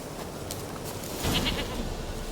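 A goat bleats in The Witcher 3: Wild Hunt, a short cry over a steady low game ambience, moderately close.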